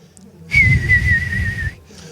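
A man whistles a thin, high, sustained note imitating a small bird, one steady tone lasting just over a second, close and clear, with a faint room murmur before and after.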